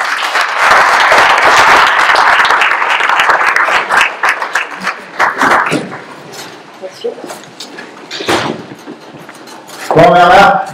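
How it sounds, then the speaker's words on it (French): A crowd at a French town hall ceremony honouring a former mayor and his deputies claps and cheers loudly for several seconds, then it fades into scattered voices, with a short burst of clapping near the end. "Et on peut l'applaudir."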